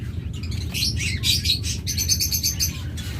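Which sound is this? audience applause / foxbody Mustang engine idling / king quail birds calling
king quail birds calling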